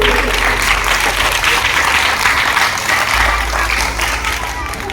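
A hall full of school students applauding together, a dense, loud and sustained wash of clapping that continues throughout, with a voice faintly mixed in underneath.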